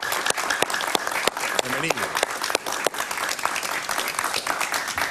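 Studio audience applause welcomes a guest on a Spanish-language talk show in Miami: dense, steady clapping for the whole stretch, with a voice briefly speaking over it.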